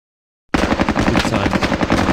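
Machine gun fire in the war game Squad Battles Eagles Strike bursts in suddenly after a short silence, then rattles on as a loud, rapid continuous stream of shots.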